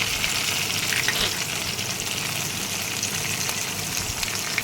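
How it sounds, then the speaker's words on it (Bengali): Steady, dense sizzling of chopped garlic frying in hot oil, continuous and close, with no talking. "প্রথমে আমি এখানে তেল দিয়ে দিলাম, তারপর রসুন কুচি দিয়ে দিলাম। এবার আমি এটা নাড়াচাড়া করব।"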